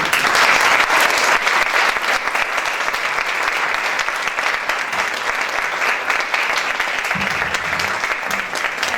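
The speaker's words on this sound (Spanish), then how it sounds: "démonos un aplauso colectivo" A large audience claps loudly and continuously, a dense, steady wash of applause that holds throughout.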